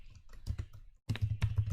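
Rapid typing on a computer keyboard while network settings are configured, close and crisp keystrokes in quick bursts with a brief pause midway.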